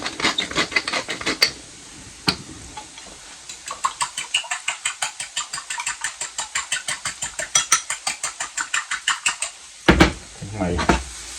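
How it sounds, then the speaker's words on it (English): Peppers cook with onion in a pan, a steady sizzle under rapid, rhythmic scraping and stirring of a utensil against the pan, close and continuous, with a louder clatter near the end. "I'll cook my pepper."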